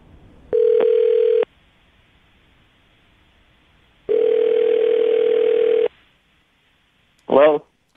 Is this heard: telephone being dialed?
yes